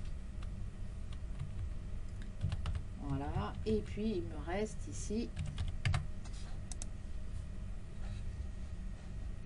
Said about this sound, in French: je vais utiliser le pavé numérique du clavier